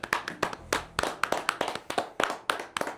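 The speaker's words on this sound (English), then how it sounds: "Should we give a brief round of applause?" A small audience gives a brief round of applause, with sharp, distinct claps arriving in a loose rhythm of roughly two or three per second, close and moderately loud, with no talking over them.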